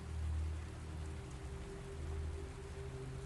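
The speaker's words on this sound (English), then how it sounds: "rain begins to fall over Honey Island Swamp" Steady rain falls over Honey Island Swamp among cypress trees, a constant soft hiss with a low rumbling undertone and no voices.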